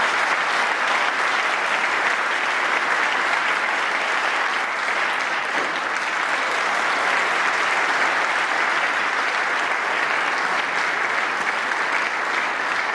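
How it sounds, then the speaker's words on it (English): Prolonged, dense applause from spectators at a UK Championship snooker match, a steady even roar of clapping that holds at constant loudness throughout with no talk over it. "Prolonged round of applause for the other table."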